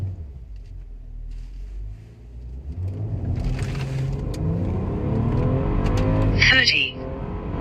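A stock 2015 BMW X5 35i accelerates hard in a full pull, its engine note climbing steadily in pitch and growing louder over several seconds, close and continuous.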